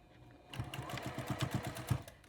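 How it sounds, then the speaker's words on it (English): A sewing machine with a walking foot stitches quilt binding through many layers at a 2.5 stitch length, a steady rapid run of needle clicks and motor hum, close and fairly quiet, with no talking. "start sewing all the way down"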